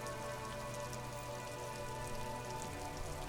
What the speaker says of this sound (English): Droplets of rain fall on the white on blue police livery of the motor